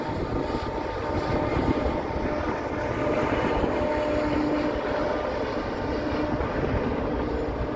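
Union Pacific freight locomotives rumble past near Cajon Creek Bridge below Old Cajon Station, a steady loud low roar and mechanical drone holding for several seconds without voices.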